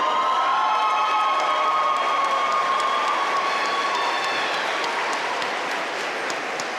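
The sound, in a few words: commencement audience applauding and cheering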